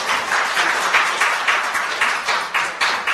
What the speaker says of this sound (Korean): 우리 그 빠르게 반응하시는 오늘 참가하신 분들 위해서 한 번 더 박수 한번 부탁드릴까요?